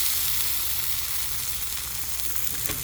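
Pea pods sizzle in avocado oil on a Blackstone griddle, a steady bright frying hiss that holds close and even throughout.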